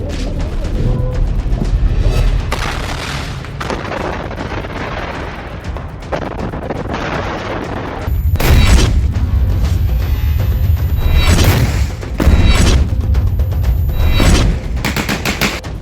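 Gunfire and blasts in urban combat in Gaza, with tanks and troops on a ground operation: repeated bursts of shots and heavy booms, loud and close, filling most of the stretch with dense overlapping reports.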